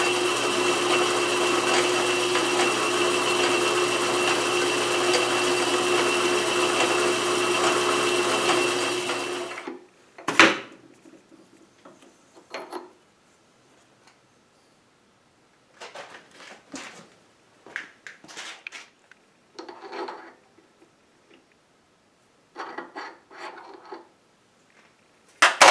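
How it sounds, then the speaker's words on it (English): A roughing reamer cuts into the tailstock on a South Bend 11-inch lathe with a steady, dense grinding hum for about ten seconds. The cut stops abruptly, and scattered faint clanks and handling noises follow. "Okay, that was the roughing reamer."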